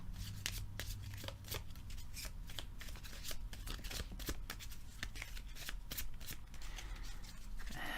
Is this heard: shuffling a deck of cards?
yes